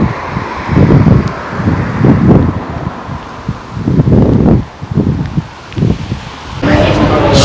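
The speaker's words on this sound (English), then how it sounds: "It's windy." Strong wind blowing outdoors at a summer festival in Nottingham, gusting in loud rumbling surges that buffet the microphone, with a brief lull before a final gust; voices speak faintly under it.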